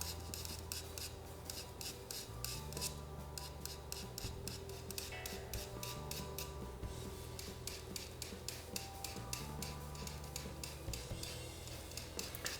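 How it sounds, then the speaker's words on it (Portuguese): A craft knife scratches through a white colored-pencil wax layer on paper to pick out fine hair strands, making quiet, quick rhythmic scraping strokes, close up and soft. "Agora com o estilete a gente pode detalhar um pouquinho mais alguns fios."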